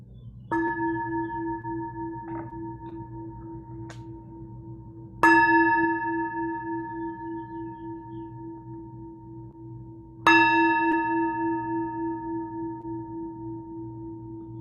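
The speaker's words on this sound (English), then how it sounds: "And when you hear the sound of the bell" Meditation bell struck three times at slow, even intervals, each clear ringing tone decaying gradually into a quiet room, with a couple of faint small knocks in between.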